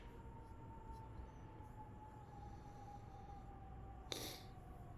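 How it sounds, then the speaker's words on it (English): An ambulance siren passes outside, a faint, steady wail far off behind a quiet room hum, with a brief sharp noise near the end and nobody talking. "Always an ambulance."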